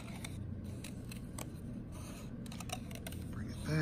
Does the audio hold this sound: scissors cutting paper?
yes